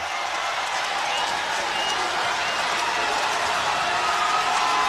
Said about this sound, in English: And the Arkansas fans, as loud as they've been all game, the bench waving towels and celebrating.